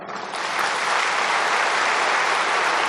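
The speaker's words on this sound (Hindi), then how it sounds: "अपने लिए ताली बजाओ।" An audience claps together at a spiritual talk, a dense wash of applause that swells in within the first half second and holds steady and loud to the end.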